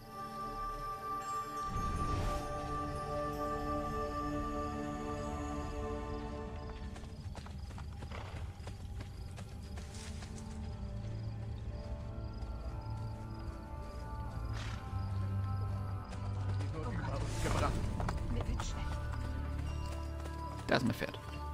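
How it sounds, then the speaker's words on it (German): Horse hooves clip-clop steadily in Assassin's Creed Brotherhood, a close, continuous trot running through the whole stretch over a dense game soundscape. "Da ist mein Pferd."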